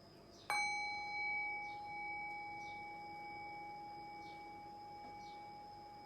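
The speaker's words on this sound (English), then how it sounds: "Rest your awareness on the decay of the bell." A meditation bell is struck once, a clear bright strike followed by a long sustained ringing tone that slowly fades into quiet, heard alone and fairly faint.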